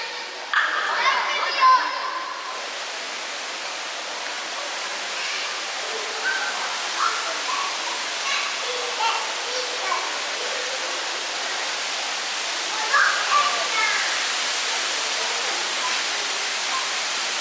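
A steady wash of rushing water roars continuously from a waterfall nearby, reached through a tunnel in Ibaraki Prefecture, Japan, with people talking faintly over it.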